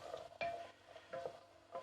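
Mirepoix vegetables sizzle and hiss in a pan over low to medium heat, with a few stirring scrapes and clatters punctuating the soft, steady frying.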